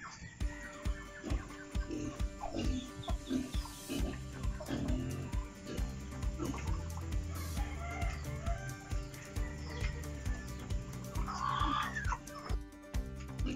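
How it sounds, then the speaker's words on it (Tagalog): Chickens, one of them sick, cluck and crow repeatedly at close range over a busy farmyard background, with no talking. "itong nakikita niyo manok ay may sakit"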